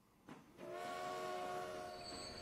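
A train rolls past in the Transport Fever video game, with a sustained sounding horn tone over a steady rail rumble, heard clearly and alone with no speech.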